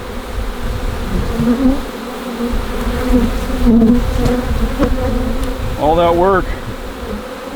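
A dense, steady buzz of many honey bees fills the clip up close, with a short spoken phrase near the end.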